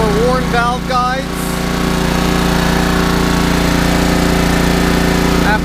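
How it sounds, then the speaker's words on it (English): A Honda engine on a Classen TS-20 overseeder with a fouling spark plug runs at a loud, rapid, steady chug, with a voice talking briefly over it at the start. "After about 5 minutes, the spark plug gets fouled again and the engine stops."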